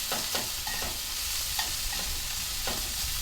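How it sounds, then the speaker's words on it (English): Steady sizzling from paua frying in a pan, with occasional scraping clicks as it is stirred, close and continuous. "just give it another probably 30 seconds of frying."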